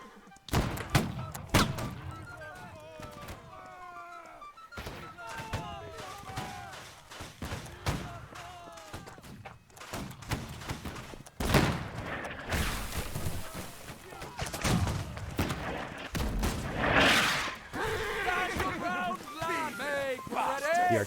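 Artillery cannons and rockets firing along a road in Holdfast: Nations at War, a string of heavy thuds and blasts at varying distance amid a chaotic battle din, with voices and shouting throughout.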